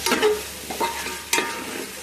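A utensil scrapes and stirs through sizzling chicken in a pan, in a few distinct strokes close up, with steady frying underneath.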